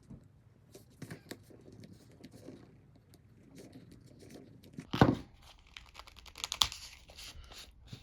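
A blade slices through the plastic packaging of a coin set, a brief crisp tearing burst followed by a few lighter crinkles, close by in a quiet room.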